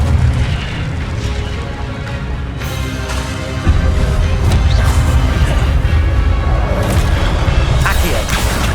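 An Incendio fire spell blasts in Hogwarts Legacy, booming fiery impacts and crackling bursts amid loud game combat noise that swells midway through.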